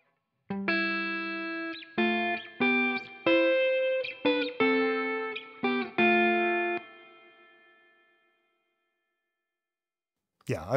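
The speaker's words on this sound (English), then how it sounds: "And I'll just show that with a bit of cranked reverb so you can hear that." Around ten electric guitar chords are struck one after another, each ringing out with heavy reverb, then a long wash fading to silence.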